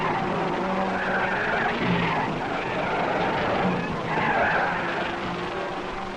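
Race cars at the 1961 Monaco Grand Prix are heard in rough, old-fashioned sound as engines and tires swell and fade in two passing waves over a constant hiss of background noise.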